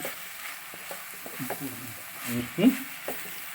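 Kerala sardine (mathi) masala is stirred in a frying pan: quiet scrapes and soft clicks of the spoon come in an uneven rhythm over a faint, close sizzle.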